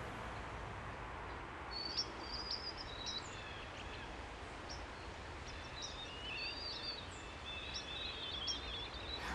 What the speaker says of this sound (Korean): 정원을 보면 새소리가 들리더라고요.